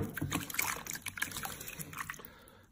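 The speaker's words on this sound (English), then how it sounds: "Take a banana and stir it up." A banana stirring salted water in a container for a magic trick, giving soft close sloshing and dripping liquid sounds that fade toward the end.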